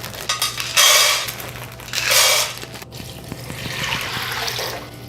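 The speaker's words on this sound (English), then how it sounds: "we are gonna combine 2 cups of dried red kidney beans with 10 cups of water." Water is poured in short bursts onto dried red kidney beans in a kitchen pot for a Honduran meal. There are two loud splashing pours, then a softer, longer trickle with light clinks of cookware.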